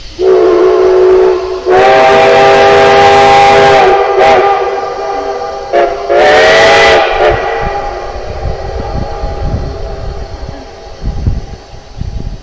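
A steam locomotive on the Cumbres and Toltec railroad sounds two loud, long whistle blasts, the first about two seconds long and the second shorter, followed by the low rumble and hiss of the engine.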